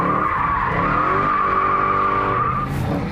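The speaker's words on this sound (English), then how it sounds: "Victory donut." A Dodge Hellcat spins a burnout donut, its tires squealing in one sustained loud screech over a steady roaring engine for the whole stretch.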